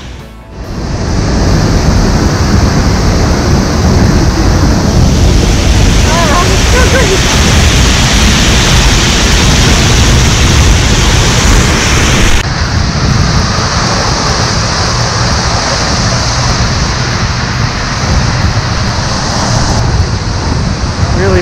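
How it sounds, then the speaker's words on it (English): Waterfall at Skaftafell, Iceland, heard from close by underneath it: a loud, steady broadband roar of falling water that fills the whole clip without pause. A voice is faintly mixed in. "Misty down here under the waterfall."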